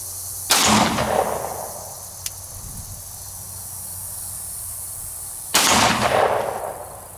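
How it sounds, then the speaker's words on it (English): Two loud, sharp gunshots about five seconds apart, firing 124 grain full metal jacket and then hollow point rounds at a dumpster outdoors, each crack ringing out and decaying, with insects chirping steadily in the background. "I'll shoot the full metal jacket first and then the hollow point."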